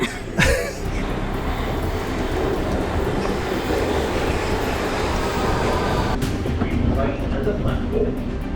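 A London Underground Circle Line train rumbles steadily close by as it arrives, a constant roar of wheels on rails with a brief clatter near the start and a shift near the end.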